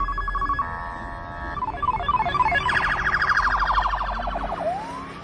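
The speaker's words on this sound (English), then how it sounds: "I want to play first, though, the new sirens that the Florida Highway Patrol is rolling out" A new Florida Highway Patrol police siren plays alone and loud. Steady electronic tones turn into rapid, warbling, arcade-like bleeps that climb in pitch, then end in a sharp upward sweep.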